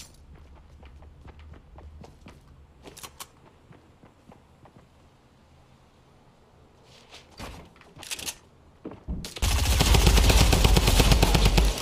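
Rapid gunfire from a drum gun in Fortnite, with footsteps and scattered shots building up, then a loud, sustained burst of firing at the end.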